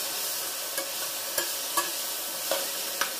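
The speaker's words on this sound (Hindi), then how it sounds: "धनिया पाउडर डाल के इसको मिक्स करेंगे।" Sprouted moong sautés in a pan with salt and coriander powder, sizzling steadily up close while a spoon scrapes and stirs through it in several distinct strokes, with no talk.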